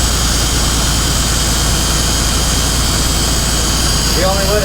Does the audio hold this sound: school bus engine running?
yes